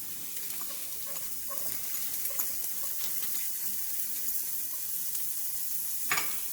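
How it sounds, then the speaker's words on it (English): Chopped onion and a large garlic clove fry in a pan, making a soft, steady sizzle with occasional light crackles and one sharper clatter near the end, with no voices. "I'm going to add that to our pan to cook the onions down"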